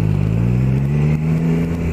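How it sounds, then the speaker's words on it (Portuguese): A Triumph Tiger Sport 660 three-cylinder motorcycle engine revving, a loud close steady drone with strong low harmonics and a slight whine, with no talk over it. "Barulhinho do motor razoável"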